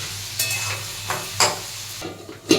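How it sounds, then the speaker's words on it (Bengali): A spatula scrapes and stirs vegetables with black pepper in a frying pan, four short, separate scraping strokes over a soft steady sizzle, close and fairly quiet. "ভালোভাবে একবার নাড়াচাড়া করে একবার ঢাকা দিয়ে সবজি কটা সিদ্ধ করে দেবো"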